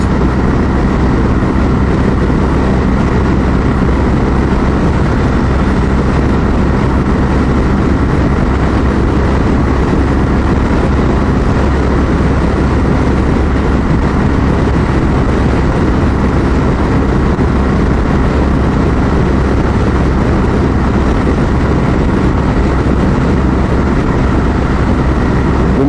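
Steady, loud roar of wind buffeting a motorbike ridden at speed in top gear, broadband and continuous throughout with engine drone underneath and no pauses.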